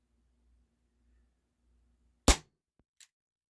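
Umarex H&K VP9 air pistol fires once with a sharp, loud crack and blowback snap, followed by a faint click and a brief metallic tick, over a quiet low hum.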